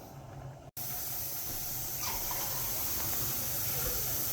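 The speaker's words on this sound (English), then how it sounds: "when your canner starts getting steam blowing out of here" Steam hisses steadily out of the vent of a pressure canner on the stove, a loud, continuous rushing spray that barely changes, after a brief click near the start.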